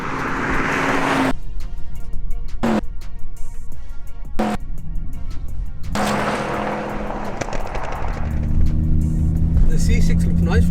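Audi RS6 cars of the C6, C7 and C8 generations, around 650 to 680 horsepower, launch in a drag race, engines roaring loud with rising revving as they pull away, under continuous commentary talk.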